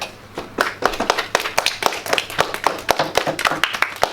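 A primary school audience claps for a student who has just presented his small business products: a crisp run of sharp, closely spaced hand claps that keeps a fairly steady pace for about four seconds.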